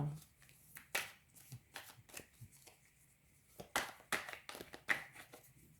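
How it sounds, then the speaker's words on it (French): Oracle cards are cut and drawn by hand, giving a series of crisp papery slaps and flicks in irregular bursts, close and fairly quiet, with a voice speaking in places. "je fais d'abord une petite coupe. Ensuite, je vous tire 13 cartes"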